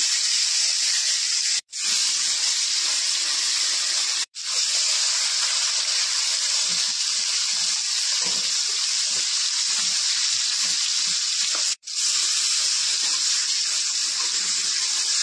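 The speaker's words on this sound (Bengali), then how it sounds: "এটা গরম হয়ে গেছে, আমি মাছ ছেড়ে দিলাম।" Shol fish dropped into hot cooking oil in a kadai, giving a loud, steady hiss with no pauses apart from three brief drops. No one speaks.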